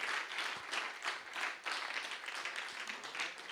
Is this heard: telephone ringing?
no